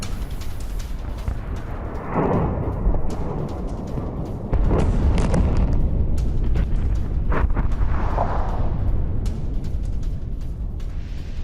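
Loud, rumbling blasts and booms sound over a constant roar, with several heavy bursts spaced across the stretch, from a Ukrainian missile attack using Western-supplied missiles.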